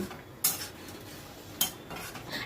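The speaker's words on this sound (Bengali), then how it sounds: "এবার ভেজে রাখা কোপ্তাগুলো আমি দিয়ে দিচ্ছি, দিয়ে আবার সব কিছু ভালো করে মিশিয়ে নিলাম।" Two sharp metal-on-pan clinks as fried egg koftas are stirred into a chickpea curry, a faint background hiss between the scrapes.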